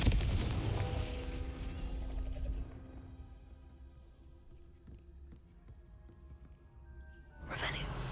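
The Confringo blasting spell in Hogwarts Legacy hits with a loud, booming burst at the start that decays over a couple of seconds. Quieter mechanical rumbles follow, then a second sharp blast near the end.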